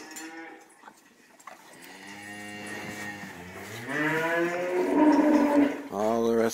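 Cows in a barn moo in long, drawn-out calls, one rising and growing louder, then a second closer, fuller moo at the end, with no talk over them.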